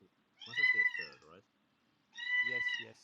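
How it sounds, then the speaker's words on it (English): A cat meows twice, each a drawn-out nasal call of about a second, close and clear over a quiet room, while people talk briefly at the start and between the meows. "I'm sorry for the cat sound."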